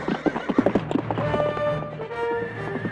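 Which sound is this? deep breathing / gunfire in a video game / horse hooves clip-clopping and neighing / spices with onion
horse hooves clip-clopping and neighing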